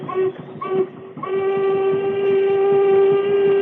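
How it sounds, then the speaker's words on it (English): A police launch's steam whistle sounds loud and near with a steady harmonic tone, two short blasts followed by one long sustained blast over the chugging rhythm of a paddle-wheel boat. "I'll try another signal on the whistle."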